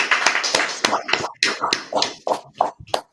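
A dozen or so separate, irregular hand claps from a small group at a religious gathering, sharp and close with short gaps between them, ending in silence.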